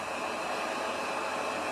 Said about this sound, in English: we are using a hair dryer